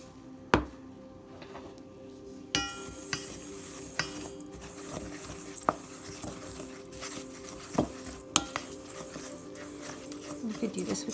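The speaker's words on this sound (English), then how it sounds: "We're going to mix that all together." Dry ingredients for apple pie cookies are mixed in a bowl, with scattered scrapes and clinks from the utensil against the bowl under a steady background hiss, plus a few sharper knocks.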